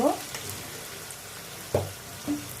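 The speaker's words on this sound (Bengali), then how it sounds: "এইবার পেঁয়াজটা যখন ভাজা ভাজা হয়ে এসছে, যে লালচে লালচে করে ভাজা যখন হয়ে আসছে" Onions frying in a pan for chilli chicken, a soft steady sizzle running throughout with a few brief clinks and scrapes of stirring standing out near the start, middle and end.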